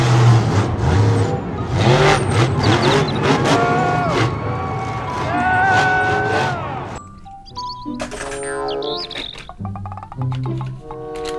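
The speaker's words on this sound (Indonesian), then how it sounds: "Mobil truk monster." Monster truck engine rumbling and revving loudly for about seven seconds with clanks and a crash-like bang, then a cheerful musical jingle with dings.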